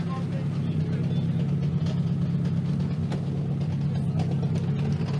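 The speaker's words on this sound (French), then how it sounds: "la BMW compacte de Johnny Jacobsen" A BMW Compact rally car driving on a special stage at the finale of the Coupe de France des rallyes, a steady droning engine heard at a moderate distance with voices talking over it.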